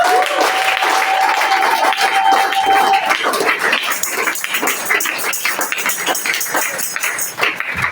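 A church congregation applauding during a sermon on grace, sustained clapping at fairly close range that runs the whole time, dense and steady, with a few louder individual claps standing out near the end.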